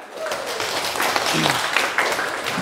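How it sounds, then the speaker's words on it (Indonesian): Audience applause at a classroom teacher-training presentation in Indonesia, a steady continuous patter of clapping with voices mixed in throughout. "Tepuk tangan dulu sekali lagi ya."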